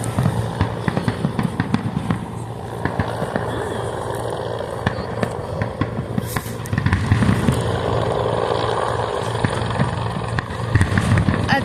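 Independence Day fireworks in Washington DC, 2024: a dense run of loud booms and crackling bursts from a distance, rolling without a break under scattered crowd voices and chatter.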